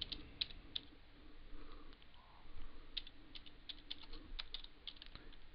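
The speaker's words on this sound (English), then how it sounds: "Then I'm going to type in" Computer keyboard typing, a quick series of light, crisp key clicks at an uneven pace, quiet and close, with no talking.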